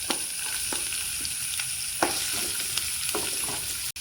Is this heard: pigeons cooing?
no